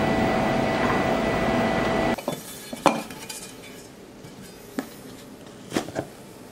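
Tumbled rocks in 150/220 mesh silicon carbide grit are lifted out of a tumbler barrel after steady machine noise stops, giving a few separate clinks and rattles with quiet gaps between them.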